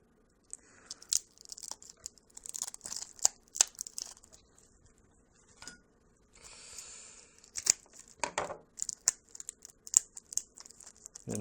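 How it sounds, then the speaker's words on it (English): MicroSD card packaging being torn and pried open by hand, with bursts of close crinkling plastic, sharp tearing and small clicks separated by brief pauses. "now I have to struggle to open microSD cards"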